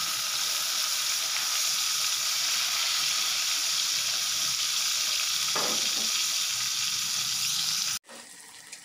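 Tempeh seasoned with garlic and salt sizzles steadily in hot oil, a loud, even crackle throughout that cuts off abruptly near the end.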